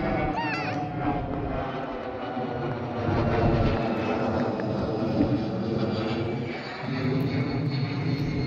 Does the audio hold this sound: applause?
no